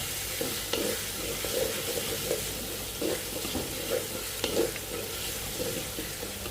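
Onions with ginger-garlic paste frying in a clay pot for handi chicken, a constant sizzle with rhythmic scraping stir strokes recurring every second or so, close up.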